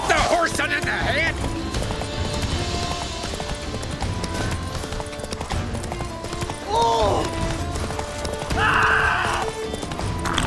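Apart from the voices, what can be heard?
galloping horse in The Witcher 3 video game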